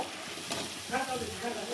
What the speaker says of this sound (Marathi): जे मसाले होते त्या मसाल्यामध्ये व्यवस्थित परतून घेतली मटकी